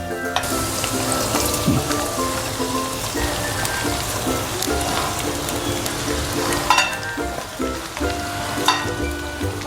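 Sabudana khichdi with potato and chili sizzles steadily in a pan over a low flame, with repeated close stirring scrapes and soft clinks of the utensil over the continuous crackle.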